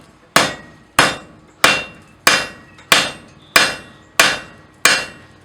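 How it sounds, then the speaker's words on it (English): Blacksmith's hammer pounding hot metal on the edge of an anvil, eight sharp ringing blows at a steady, even rhythm, loud and close with no voices. "It's working out the material very aggressively using the edge of the anvil"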